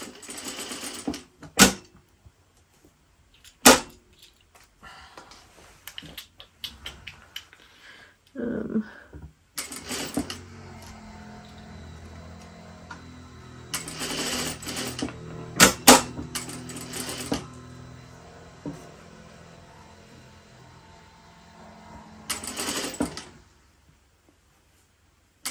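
Sewing machine stitching a waistband on a pair of pants, with sharp clicks and knocks followed by bursts of fast mechanical whirring, the stitching runs stopping and restarting, and no voices.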